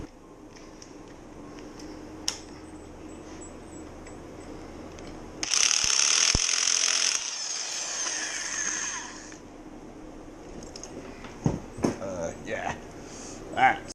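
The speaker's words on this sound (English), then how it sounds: "Alright, now to tighten these." A ratchet tightens bolts on a Givi rack being fitted to a Yamaha FZ6 motorcycle. It gives a close, dense burst of rapid clicking for a few seconds mid-clip, with scattered metallic taps and clunks around it.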